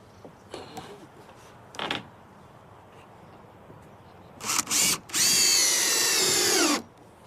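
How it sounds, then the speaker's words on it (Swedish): A power drill driving screws with gaskets into the valleys of a corrugated plastic terrace roof: short bursts, then one long whining run of about two seconds winding down, close and loud, with no talking. "Och de här skruvar vi i dalarna på plasttaket."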